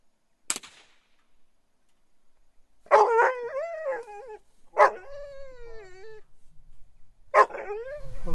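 A dog caught in a trap gives a sharp yelp, then three drawn-out, wavering howls with whining yips, separated by short pauses. The calls sound fairly close and loud, with no talking.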